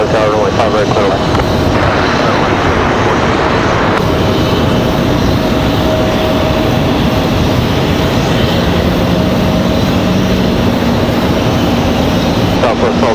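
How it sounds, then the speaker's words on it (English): An American Airlines jet takes off at Raleigh-Durham airport with a loud, continuous engine roar that stays strong and steady throughout, broadband and unbroken. "There we go, American cleared for takeoff here"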